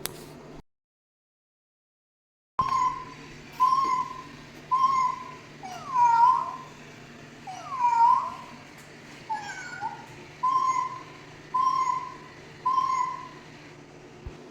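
A toy cat bought at Walmart gives a series of about ten short, evenly spaced electronic meows after a brief silence, each close, clear and moderately loud.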